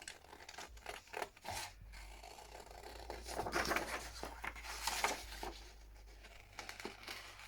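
Scissors snipping out stitches in fabric on a slow-stitched bag, heard as close, soft crisp snips and rustling cloth in irregular bursts.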